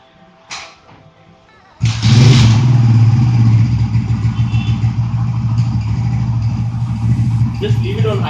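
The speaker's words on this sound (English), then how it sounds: "let's start the bike and just run it for a while" A motorcycle engine starts with a sharp burst, then keeps running steadily and loudly, a low throbbing idle that pulses evenly throughout.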